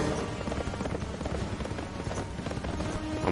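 Horse hooves clip-clopping in a video game, a continuous busy patter of galloping steps mixed into dense game sound, steady and fairly loud throughout.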